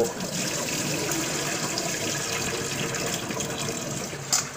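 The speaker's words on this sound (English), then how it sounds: "I like to wash my rice so I can see the plain water running out of it after" Water runs steadily into a kitchen sink while rice is washed, a continuous close splashing stream with a small clink near the end.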